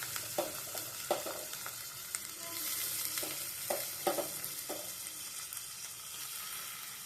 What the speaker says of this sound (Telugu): ఇప్పుడు మనము ఉడికిపెట్టిన గోకరకాయని వేసుకోవాలి.